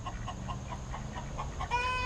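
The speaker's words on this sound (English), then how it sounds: "Y'all hear the chicken song?" Chickens cluck in a quick repeated rhythm, fairly faint and at a distance, over a steady low rumble, with a higher steady tone joining near the end.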